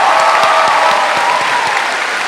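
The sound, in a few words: graduation audience applauding and cheering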